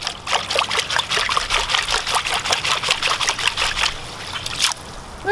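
Cedar bonsai roots are swished and rinsed by hand in a container of murky water, giving a steady run of close splashes, trickles and dribbles for several seconds. Nobody speaks.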